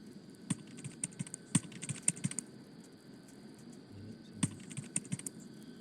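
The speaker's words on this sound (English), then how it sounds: "Aha, I can hear typing." Typing on a computer keyboard: irregular clusters of sharp key clicks, close and clear over a quiet steady hum, with a pause in the middle and no talk.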